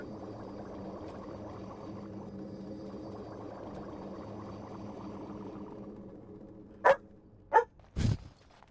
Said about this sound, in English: I know you guys are going to hear my doggo bark